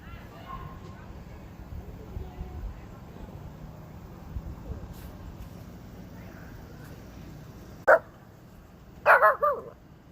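A puppy lets out one sharp bark and then a quick burst of two or three more yips near the end, close by, while people speak quietly before it on a camping trip.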